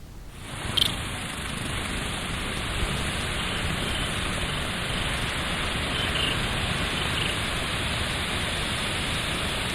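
Heavy monsoon rain pours steadily over the Nizamabad district countryside in Telangana, a dense, continuous broadband hiss that stays loud and even throughout with no voices.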